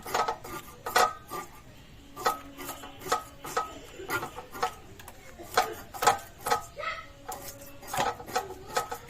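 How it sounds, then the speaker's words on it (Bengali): Hilsa fish being scaled by hand in a home kitchen, a run of sharp scraping and clicking strokes in an uneven rhythm, close and fairly loud with brief pauses between bursts. "প্রথমে ভালো করে মাছের আঁশ ছাড়িয়ে নেব।"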